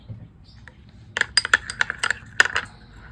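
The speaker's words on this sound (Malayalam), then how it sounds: "അതിനുശേഷം ഇനി ഇതൊന്ന് മിക്സ് ആക്കുകയാണ് ഞാൻ കേട്ടോ" A spoon clinks repeatedly against a bowl while stirring a glycerin skin care mixture, a quick cluster of sharp metallic taps, close and fairly loud, after a quiet start.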